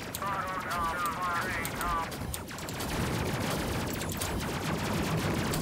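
Spaceship guns fire in the Space Crew video game, a dense run of rapid shots crackling steadily through the whole stretch with a loud, busy game soundscape and occasional speech underneath.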